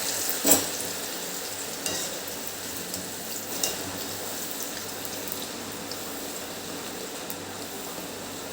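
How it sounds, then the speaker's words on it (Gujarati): Sweet potato chevdo frying in hot oil over a low gas flame, a faint, steady crackling sizzle with a few sharper pops and stirring clicks. "એની અંદર આપણે થોડો થોડો રીતે ચેવડો તળી કાઢવાનો"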